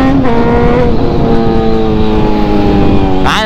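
A Honda CBR motorcycle engine drones loud and close with a steady high-pitched whine, then rises sharply in a quick rev at the end.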